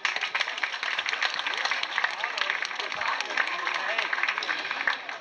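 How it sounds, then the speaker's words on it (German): An outdoor crowd applauds at a village celebration in Golzow, Germany, honoring a long-serving district administrator, a fairly soft, steady patter of many hands clapping at a distance. "Applaus bitte."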